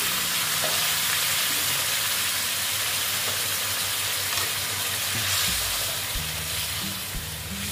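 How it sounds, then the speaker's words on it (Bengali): Hot water poured into a pan of bata fish curry with potatoes raises a loud, steady, hissing sizzle that carries through the whole stretch, with faint background music underneath. "এবার আমি জল অ্যাড করব। আমি কিন্তু গরম জল দিচ্ছি, ঠান্ডা জল দিচ্ছি না।"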